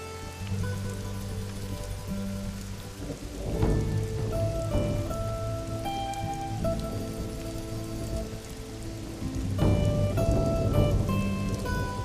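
Steady rain patters on a surface while thunder rumbles low in the distance, with a soft tonal music bed running underneath throughout.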